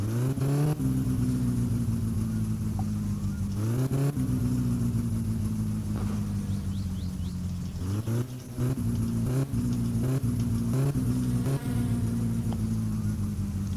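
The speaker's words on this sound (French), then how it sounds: "Le moteur est chaud, hein, je peux taper dedans." Satsuma car engine in My Summer Car, running warm with a rich fuel mixture, revving in repeated surges over a steady idle drone, close and loud with no talk.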